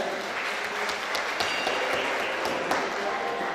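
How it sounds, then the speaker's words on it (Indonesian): Applause from parents and guests at a church-run school parenting session, a dense, steady patter of many hands clapping at close range throughout. "Tepuk tangan dong buat kita semuanya."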